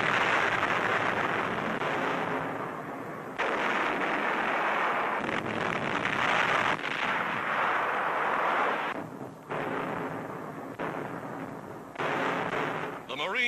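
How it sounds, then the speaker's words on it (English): Heavy naval guns firing at dawn during the 1943 assault on Tarawa, a dense, continuous roar of booming blasts with a narrator talking over the din. "Dawn, and the Navy's big guns open fire."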